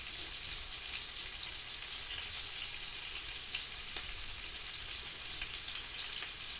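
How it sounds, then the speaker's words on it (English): Coconut shrimp sizzle steadily in hot frying oil, a continuous bright crackling hiss that stays even and close throughout, with no voices. "Anytime you're frying."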